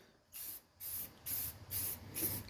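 Aerosol spray paint laid onto a primed drum in a series of five short hissing bursts with brief pauses between them, close and fairly quiet.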